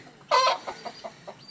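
A hen with chicks gives a sharp squawk followed by a few soft, quick clucks nearby.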